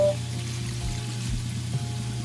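Water pours into a pot of pork humba, a soft steady trickle with a low bubbling hum beneath, brief and close.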